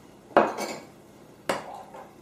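Spoon or utensil clinks twice against a bowl while mashed banana, egg and oil are stirred together, two sharp contacts with a short scraping tail, close and alone.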